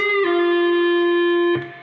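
At full tempo, a distorted electric guitar note from the solo is picked, bent a full step and brought back before a quick pull-off. The single held tone rings out clearly with no voices.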